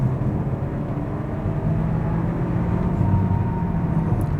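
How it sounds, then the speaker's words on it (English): A 2021 Hyundai Kona 1.6T in comfort mode on a night drive, its engine a steady low droning hum with road rumble, the pitch rising slightly as it pulls, heard from inside the cabin without talk. "Let me just let you hear the car."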